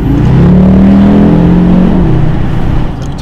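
Audi RSQ3 engine idling and gently revved in Sport mode with the window lowered, a steady loud low rumble with a slight rise in pitch midway before settling, heard from inside the car with no talk.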